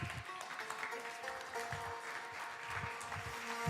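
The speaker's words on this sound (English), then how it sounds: "A round of applause." A parliamentary congress audience claps in welcome as team members come onto the stage, a faint, distant spread of applause under room noise and a low hum.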